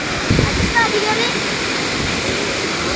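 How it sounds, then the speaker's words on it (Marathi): Water gushing at high pressure during heavy monsoon rain in a village, a steady loud rushing roar filling the whole clip, with faint voices underneath. "इकडं बघ प्रेशर न पाणी आहे सगळं"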